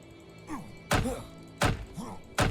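A door is bashed three times in the survival game HumanitZ, each a heavy, sharp wooden thwack spaced roughly a second apart, with smaller knocks in between.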